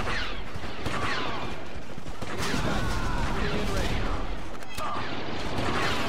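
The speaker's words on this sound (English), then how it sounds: "Another random grenade throw." Repeated grenade blasts and gunfire in the Star Wars Battlefront 2 video game, on the Dagobah map of a modded conversion pack, pop in bursts throughout a dense, steady din of battle with no clear speech.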